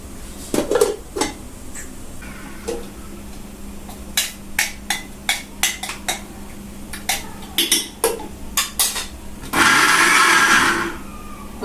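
Garlic is chopped and ground for a mashed fish dish: a series of sharp knocks and clinks from utensils is followed near the end by a brief, loud blender whir lasting about a second.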